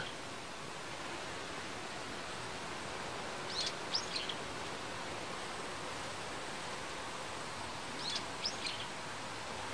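A red-whiskered bulbul gives a couple of brief, faint chirps twice, well apart, over steady broadband background hiss outdoors in winter.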